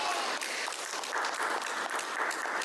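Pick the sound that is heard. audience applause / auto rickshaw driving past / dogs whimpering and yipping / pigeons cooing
audience applause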